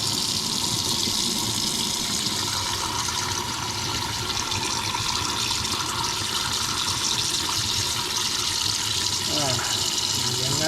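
Tap water runs steadily during washing, a continuous broadband rush filling the whole stretch, with faint background voices.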